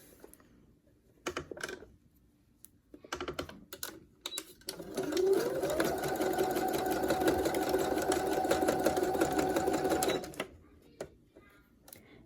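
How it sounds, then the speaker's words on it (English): A sewing machine stitches elastic onto a prom dress, starting with a few short bursts, then running in a steady close whir for about five seconds before stopping. "as I'm sewing the rest, I'm going to pull this back so that it is stretched out"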